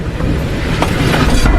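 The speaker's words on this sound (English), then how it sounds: "The train picked up speed again." A train on a late-night local line runs loud and steady, a continuous rumble of wheels and carriage noise with faint rhythmic clatter rising through it as it gathers speed.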